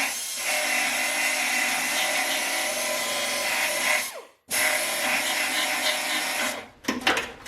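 A power tool drills out spot welds on a Mercedes W109 front radiator surround panel, a loud, close, steady whirring grind that cuts out briefly midway, resumes, then stops in a few rough bursts.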